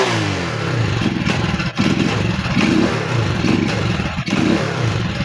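Euro 150 motorcycle engine revved hard and misfiring, a loud close rough roar with uneven stumbles and brief dropouts in the throttle, running steadily without talk.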